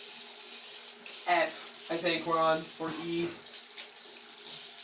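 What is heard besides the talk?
water running from a kitchen tap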